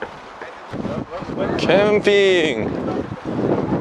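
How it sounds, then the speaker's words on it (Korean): Strong wind at a seaside barbecue spot in Macau buffets the microphone in a steady rushing roar, loud and close, while people talk and exclaim over it. "바람 진짜 세다"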